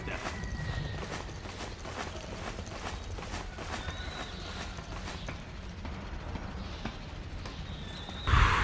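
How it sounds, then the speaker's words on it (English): Footsteps in Metal Gear Solid 4: Guns of the Patriots, a steady run of clopping steps over a constant game background, ending in a sudden louder burst. "I hear footsteps."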